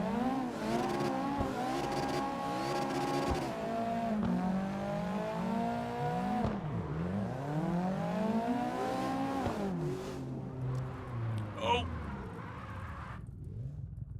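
A Mazda Miata drifts on a touge road in the PC game CarX Drift, a revving engine rising and falling in pitch through repeated shifts with tire squeal, while a voice talks over it.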